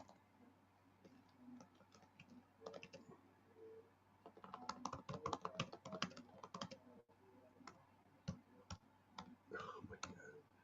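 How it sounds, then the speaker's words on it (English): Computer keyboard typing up close, with bursts of quick clicky keystrokes separated by short pauses and a busier stretch of rapid typing in the middle, against a faint steady hum. "I'm going to type it in the chat."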